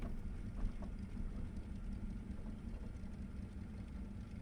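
A Wilga light aircraft engine idles in the World of Aircraft glider simulator game, a steady low rumble with broadband airy noise, faint and continuous with no talk.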